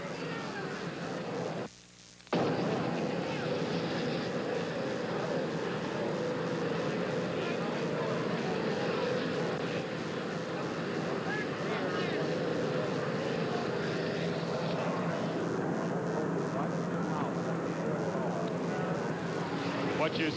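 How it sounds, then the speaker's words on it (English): An Army helicopter that has just landed on an airport apron beside the presidential jet roars with a loud, steady rotor and engine drone, a broad continuous wash filling the scene with a brief dip near the start. "An Army helicopter has just landed. It's making a great deal of noise."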